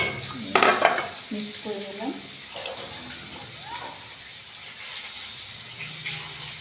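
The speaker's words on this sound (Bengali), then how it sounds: "আমি এই খাসির তেলের সঙ্গে সব মশলাগুলো মিক্সড করে নিলাম" Ground spices and cumin paste are stirred into sizzling mutton fat in a pan, giving a close, steady frying hiss with occasional scraping. A brief human voice is heard early on.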